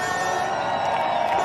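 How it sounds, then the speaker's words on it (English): A huge beach crowd cheers and roars for Ethan Ewing at the final of the Bonsoy Gold Coast Pro surf contest, a dense, steady wall of shouting and whooping that swells slightly throughout. "The horn is hard to even hear amongst this huge crowd that's backing Ewing today."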